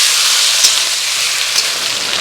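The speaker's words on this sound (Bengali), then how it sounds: "হ্যাঁ, এবার একটু ভাজা হবে।" Chicken tehari frying in a pan, a steady close hiss and sizzle of oil that stays even throughout, with a couple of faint clicks and no talking.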